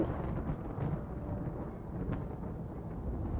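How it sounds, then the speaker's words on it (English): In the video game Rimworld, a lightning strike sets off deep, rumbling thunder that rolls on steadily under the hiss of rain, loud and without any voices. "Lightning strike out of nowhere."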